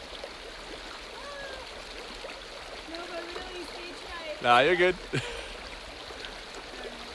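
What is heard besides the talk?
creek water flowing while hiking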